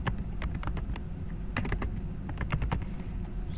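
Rapid clicking of keys on a computer keyboard, steady and close over a low background hum, with no voices.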